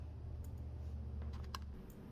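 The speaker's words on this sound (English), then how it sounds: "let's see how shuffling works with this deck" Thin, slick tarot cards being shuffled at a reading table, giving a run of soft, rapid clicking taps over a steady low hum, with a few sharper snaps near the end.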